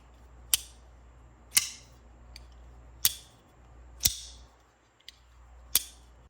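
Ketuo Illusion folding knife flipped open five times, each flip a sharp, crisp click-clack with a short ringing tail, evenly spaced about a second apart and heard close with no talking.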